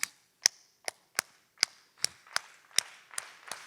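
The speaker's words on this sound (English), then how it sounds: "teach everybody how to do the Gullah Geechee clap" Rhythmic Gullah Geechee hand clapping, ten sharp, evenly spaced claps in a steady beat, close and alone with no talk.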